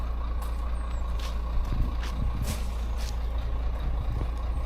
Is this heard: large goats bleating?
no